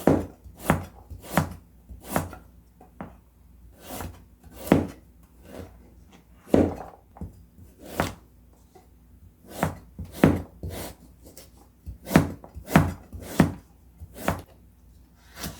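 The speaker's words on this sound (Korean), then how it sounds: "얇게 어슷썰기" A knife thinly slices vegetables on a cutting board, tapping rapidly in quick, uneven bursts of crisp chops, close and clear, with no talking.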